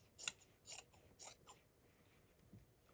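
Scissors snip through fabric being cut apart to make a patchwork hoodie: three crisp close cuts in quick succession, then a smaller snip and quiet handling, with no talking.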